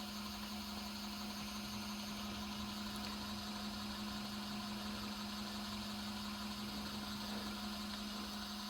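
Motor of an iScooter U4 folding step-through e-bike spinning steadily on cruise control with the rear wheel lifted, a faint, even hum with a constant tone and no change in pitch, alone without talking.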